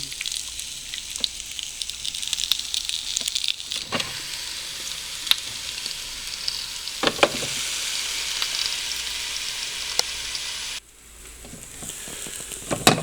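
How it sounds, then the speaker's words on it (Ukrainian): Mushrooms and onion fry in a pan on a sač for a Bulgarian breakfast, giving a steady close sizzle with a few sharp stirring knocks. The sound drops to a quieter hiss near the end, and no one speaks. "тепер трошки грибів та трошки лучка піджаримо"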